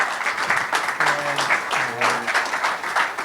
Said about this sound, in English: please give our speaker one more round of applause.